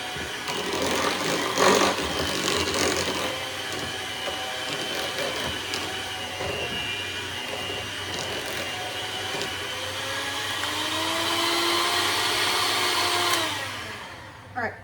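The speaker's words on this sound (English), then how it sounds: "I'm gonna go at them again with the mixer" An electric hand mixer whirs steadily through a bowl of potatoes, a loud close motor drone whose pitch shifts as it works, stopping abruptly near the end with a small knock.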